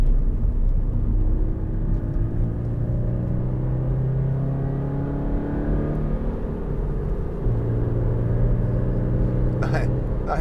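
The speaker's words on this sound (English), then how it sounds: "Nice engine sound." 2015 Toyota GT86 2.0 D-4S engine on a test drive, a low rumbling drone that rises and falls through the clip, with a voice talking over it.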